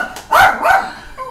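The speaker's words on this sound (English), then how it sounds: "That's my killer guard dog." A guard dog barks twice at close range, each loud bark sharp and distinct, followed by a fainter trailing yelp with no speech.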